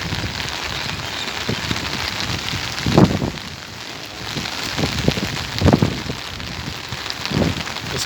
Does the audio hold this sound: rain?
yes